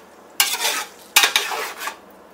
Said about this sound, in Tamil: இந்த ஸ்டேஜில் வந்து நாம் வடிகட்டி வச்சுருந்த சாதத்தை வந்து இதில் வந்து சேர்த்துக்கலாம்